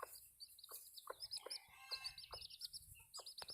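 Broody hens clucking in a steady run of short, repeated calls at close range, with thin bird chirps scattered over the top.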